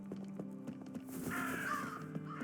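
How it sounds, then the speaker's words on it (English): Crows caw in the video game Unworthy, several harsh calls overlapping at moderate distance against a low ambient drone, with no talking. "Birds."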